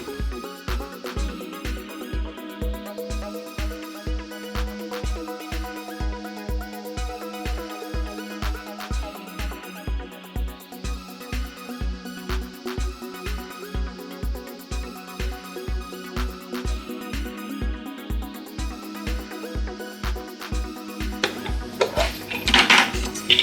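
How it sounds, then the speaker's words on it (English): A knife chops courgette and spring onions on a board in a steady, even rhythm of roughly forty quick close thuds, ending in a short clatter of utensils. "now I'm just going to chop up the courgette and the spring onions"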